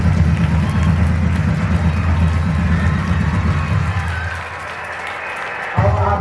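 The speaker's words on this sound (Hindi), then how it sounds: "ऐसे महान टीचर का स्वागत जोरदार तालियों के साथ करें" Audience applause welcoming a teacher at a gathering, a dense wash of clapping over a low hum that fades, then returns with a fresh burst near the end.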